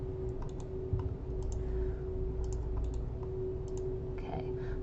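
Computer mouse and keyboard clicks tap out in small clustered groups, quiet and close, over a steady electrical hum while text is copied and pasted.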